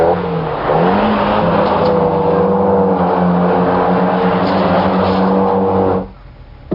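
A classic Mini Cooper, once used in competition, is driven hard, its engine roaring loud and steady with rising and falling revs for about six seconds before cutting off abruptly.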